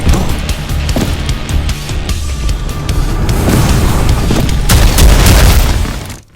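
Dense, booming gunfire and explosions from the first-person shooter game Prodeus, rapid shots cracking over a busy, loud rumbling background.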